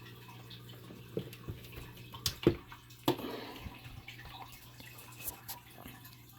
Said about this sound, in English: A lot of water pouring down, so our focus is disrupted.